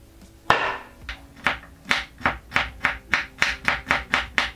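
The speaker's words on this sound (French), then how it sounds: "On découpe en petits morceaux." A knife chops raw artichoke into small pieces on a board, about a dozen crisp, evenly spaced thuds that speed up slightly toward the end, close and clear, with no voices.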